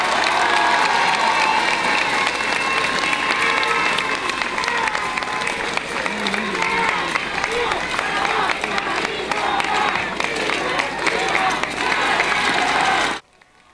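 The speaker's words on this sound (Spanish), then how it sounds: "quiero que le den un aplauso a Irma Lilia, como lo sabemos dar en Ometepec" A crowd at a closing campaign rally in Ometepec, Guerrero, claps and cheers loudly and continuously for about thirteen seconds before it cuts off abruptly, with voices mixed in.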